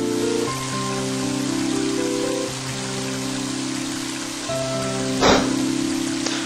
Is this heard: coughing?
no